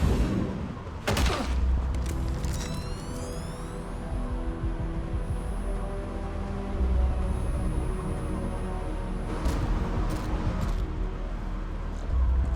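Gunfire in Mass Effect 3, a dense game-combat scene with sharp broadband shots and bursts near the start and again around the ninth to tenth seconds over a steady rumbling ambience and sci-fi tones.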